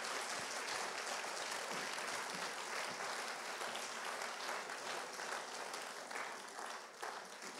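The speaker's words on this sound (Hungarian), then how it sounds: "köszönjük meg egy tapssal az ő szolgálatukat" A church congregation at a worship night applauds the worship band, a dense, even clapping that runs steadily throughout and only eases slightly near the end, with no voices over it.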